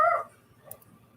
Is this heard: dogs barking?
yes